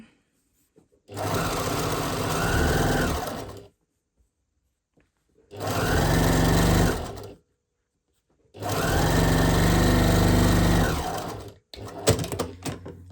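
A sewing machine runs in three steady bursts of a few seconds each while stitching a bias-cut strip of fabric shut. It whirs close and loud with silent pauses between runs and some handling clatter at the end.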